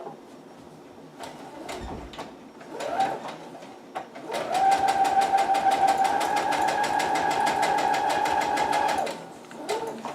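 A sewing machine stitches a cosplay utility belt pouch with a fast, even mechanical chatter that runs for several seconds at close range, with a few brief starts and handling clicks before it.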